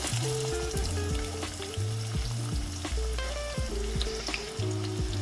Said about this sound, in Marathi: कांदा छान लालसर सोनेरी रंग येईपर्यंत छान फ्राय करून घ्यायचा आपल्याला